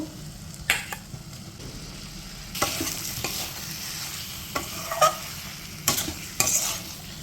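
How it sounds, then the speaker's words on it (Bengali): Fried potatoes are stirred into sizzling spice paste in a pan for a pointed gourd and prawn dish, giving a soft, steady sizzle broken by intermittent scraping spatula strokes and a few sharper clanks, heard close. "আমি যে আলুগুলো ভেজে রেখেছিলাম সেগুলো এবার এটার মধ্যে দিয়ে দেব"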